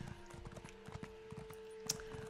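Horse hooves clip-clop in the Elder Scrolls Online video game in a steady, moderately quiet rhythm, running under a continuous tonal drone with a brief brighter accent near the end.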